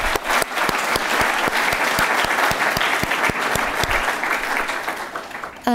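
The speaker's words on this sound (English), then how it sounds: "I'd like to give a round of applause to the translators in the room." Audience applause fills a lecture hall at a poetry centenary celebration at UC Berkeley, steady and dense for several seconds, then tapering off before a voice begins.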